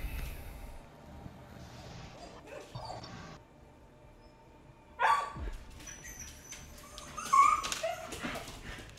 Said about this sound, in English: Yo, Chad, I apologize for the dogs.